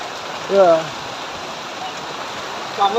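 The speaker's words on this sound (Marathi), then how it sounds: "पाऊस वाढला हो." Heavy rain pours down in a steady, loud hiss, with brief bits of a voice speaking over it at the start and end.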